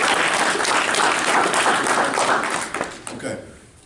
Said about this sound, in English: I want us to give a hand clap to our moderator.